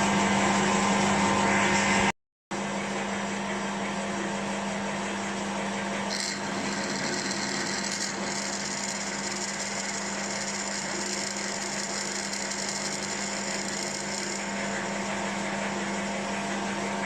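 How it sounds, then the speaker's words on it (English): Steady drilling as a larger bit bores out a hole in a machined part for a 2-inch scale Fowler showman's traction engine, a continuous low-level hum with a short gap near the start. "then I'll stick a bigger drill in"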